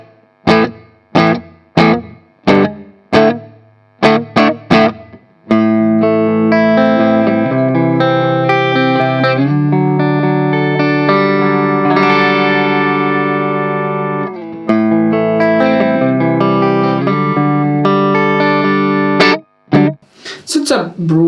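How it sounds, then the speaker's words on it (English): An electric guitar through a small-room reverb on a NUX Mini Studio pedal plays plucked notes then sustained chords with a short roomy reverb tail, clear and close, ending in a few choppy strums. "So it's a room reverb, like a smallish room, nothing amazing."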